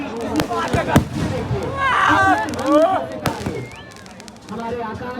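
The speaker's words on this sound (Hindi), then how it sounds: "बहुत ही शानदार ताबड़तोड़ आतिशबाजी का प्रदर्शन" Fireworks burst over a closing night of a fair mela in 2024, with sharp booming cracks and crackling pops rising and falling over a busy crowd, while someone narrates loudly throughout.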